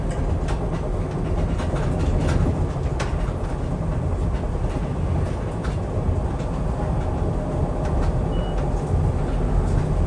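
A SEPTA Doylestown Express commuter train, car #3592 on the SL5 line, rumbles along steadily with loud, continuous track and wheel noise and faint clicks throughout.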